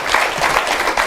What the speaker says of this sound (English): That clap is not good for me at all.